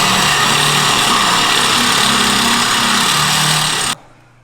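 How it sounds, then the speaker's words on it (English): Loud, steady whir of a power drill drilling bolt holes at an angle on an L5P Duramax truck, running continuously for a few seconds, then cutting off abruptly. "We're gonna kind of have to drill them at an angle"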